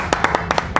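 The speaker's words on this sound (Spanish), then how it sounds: "Un fuerte aplauso para ella." A small group claps for a guest on a children's show, a quick run of about eight crisp, close hand claps in an uneven rhythm.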